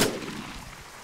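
A single sharp gunshot in the military shooter game Arma 3, one loud crack at the start trailing into a fading reverberant rumble.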